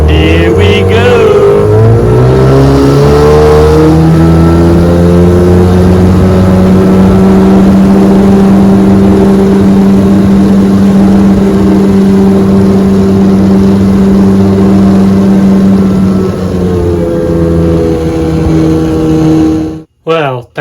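A 1996 Johnson 15 HP outboard motor runs loud and close, starting up and revving before settling into a steady droning idle, then rising again before cutting off abruptly near the end.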